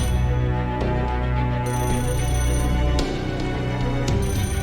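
A telephone rings steadily in the Fate Grand Order video game, a loud electronic ringtone repeating in bursts over a full in-game background score, with no voices.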